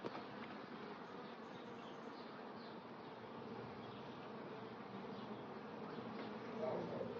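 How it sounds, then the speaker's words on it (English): Bees buzzing in a hive hidden behind a house wall, a dense steady drone that stays loud and constant throughout with no pauses and no voices. "to get the bees removed"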